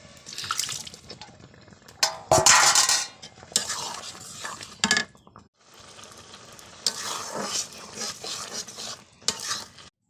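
Paneer pieces go into a pan of spinach curry made from boiled, pasted spinach, with intermittent bursts of stirring and scraping over a soft, steady sizzle, close by and without talk.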